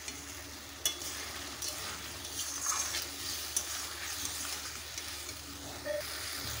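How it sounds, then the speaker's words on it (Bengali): Boiled taro is stir-fried in oil in a pan for a fish-roe curry, producing a quiet, even sizzle with occasional scrapes and clicks from the spoon, and no one speaking. "বই কচুটাকে ভালোভাবে কষে নেব।"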